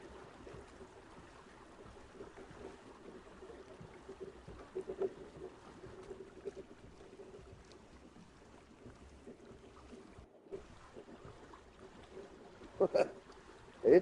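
A pirate ship from the Ark Survival Ascended mod sails and sways on open water, with a faint steady wash and wind under soft, low-level game ambience and a couple of brief louder knocks near the end.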